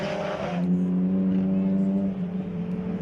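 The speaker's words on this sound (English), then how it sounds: "Van Rooyen pulling away ever so slightly there from that BMW of Julian van der Bats." Race cars, including a BMW, at the 2023 National Extreme Festival Round 3, roaring past in a loud, steady engine drone with a sustained low tone that holds throughout, close and continuous.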